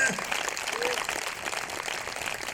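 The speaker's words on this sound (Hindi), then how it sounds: "जोरदार तालियां खुदावंद यीशु के लिए" Congregation at an Urdu church sermon gives a brief burst of applause for the Lord Jesus, a moderately faint wash of clapping with a voice heard over it.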